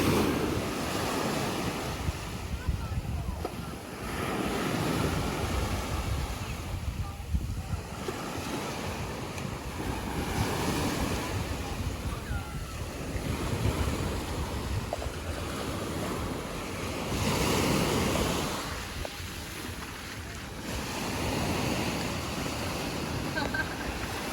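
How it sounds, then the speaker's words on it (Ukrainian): Sea waves surge and break continuously on a beach in Sarandë, Albania, on a rough day with a red flag flying, a steady roaring wash swelling and easing every few seconds under gusty wind buffeting the microphone. "Це я показувала вам хвильовий день."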